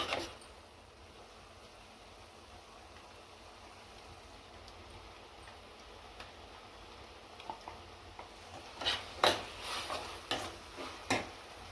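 Ginger garlic paste fries in a pan with a low, steady sizzle, then a cluster of sharper scraping and tapping stir strokes toward the end, quiet and without talking.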